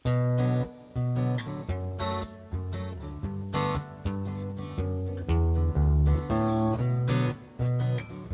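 Fingerstyle acoustic guitar picks out a variation, plucked notes ringing in a steady rhythmic pattern with strong, close attacks and sustained tones, played alone without talk.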